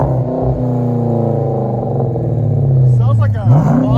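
A 2013 Chrysler 300C with a 5.7L HEMI V8 and Magnaflow Magnapack exhaust revs, a deep steady rumble that swells and then jumps in a sharp throttle blip near the end, with voices talking over it.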